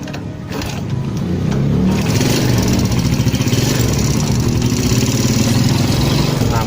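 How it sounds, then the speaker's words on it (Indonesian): A small Honda motorcycle engine idles steadily with a dense, buzzing putter, loud and close, holding an even rhythm throughout after starting up. "Nah, motor hidup ya."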